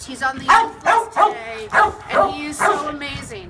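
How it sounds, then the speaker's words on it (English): A dog in the neighbouring kennel pen of a shelter barks and yips again and again in a fairly regular rhythm. The barking is close and loud, and someone talks over it. "You can hear that there's a very rude dog in the pen next door."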